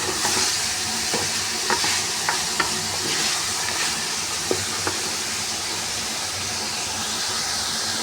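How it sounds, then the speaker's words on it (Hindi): Vegetables and boiled chicken for hot and sour soup fry in a pan with a steady sizzling hiss, broken by occasional light clicks of a spatula stirring. "इनको फ्राई करना है थोड़ी देर, सब्जियों को भी और चिकन को भी"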